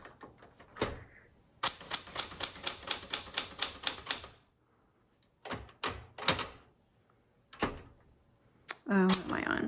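A 1967 Smith-Corona Super Sterling manual typewriter being typed on: a rapid run of crisp key strikes, then scattered clacks and thunks of the carriage and mechanism, close and clear, with a brief voice near the end.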